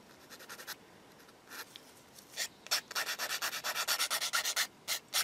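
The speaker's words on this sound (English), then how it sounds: "So with the skinny stick, just deburr the back edge." Thin sanding stick deburring the back edge of a plastic part for a 1/35 scale Takom Chieftain Mk 10 tank model, close, quiet rasping strokes, sparse at first, then a quick steady back-and-forth rhythm.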